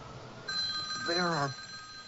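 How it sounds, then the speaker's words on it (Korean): A telephone rings in a radio drama, two steady ringing tones lasting about a second, with a voice talking over the ring. "이제 기억을 되찾았으니 남편 게리한테 전화를 겁니다"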